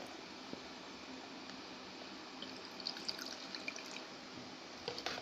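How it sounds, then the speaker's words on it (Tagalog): Water running from a 3/4-inch hose into a tank for a consumption monitoring setup, a steady hiss of filling water with faint drips and splashes. "So, lagyan natin ng tubig."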